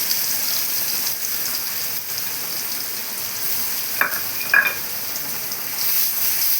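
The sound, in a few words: sautéing garlic and sambar onions in a pan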